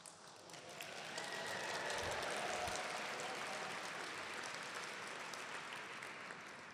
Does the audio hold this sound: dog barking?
no